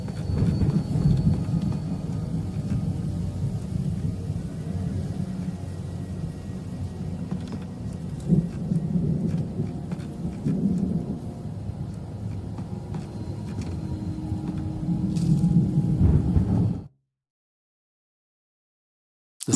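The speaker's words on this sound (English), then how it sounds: "The storm raged on as the Anderson brothers walked unsteadily" Thunderstorm with steady heavy rain in the Alan Wake Remastered video game, a dense continuous roar with a few low swells, loud and close, then cutting off to silence near the end.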